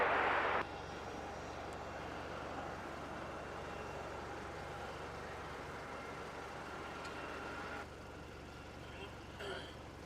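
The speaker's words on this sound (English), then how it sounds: "Yeah, that was the Rex that's just landed." A Rex airliner touches down and rolls out on runway 16 at Melbourne Airport, its engine roar and broad rumble steady and moderately distant, dropping slightly near the end.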